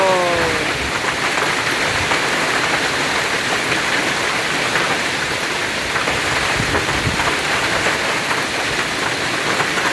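Heavy rainstorm pours down in Brasília, a dense, steady roar of rain beating on surfaces that fills the whole stretch at close range, with no pauses and no voices.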